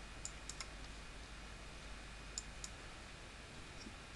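A computer mouse clicks on a website menu, a handful of faint, sharp clicks, some in quick pairs, against a quiet background hiss.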